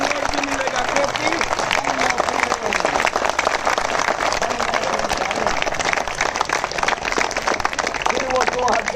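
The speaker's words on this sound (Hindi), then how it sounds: "ताली बजाइए।" Audience at a political rally in Hindi clapping steadily and loudly throughout, a dense continuous patter of applause with crowd noise mixed in.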